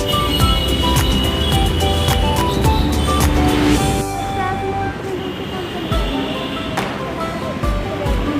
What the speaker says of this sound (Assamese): মেট্ৰ' ষ্টেচন আহিছোঁ, এইটো ঝাণ্ডেৱালা মেট্ৰ' ষ্টেচন হয়